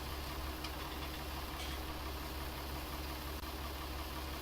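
John Deere tractor engine running in Farming Simulator 19 while working a front loader, a steady mid-pitched engine drone with low rumble, constant and unbroken with no talk over it.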